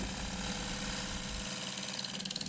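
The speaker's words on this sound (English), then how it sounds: "The vibration you can hear there is I didn't actually tighten up the tailstock that's on the other end of the lathe" A wood lathe turning a timber bowl blank rattles and vibrates with a steady motor hum because its tailstock was left untightened, the drone continuous and close, easing slightly toward the end.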